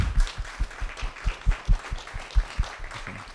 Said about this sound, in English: Can we get another round of applause for our great panel?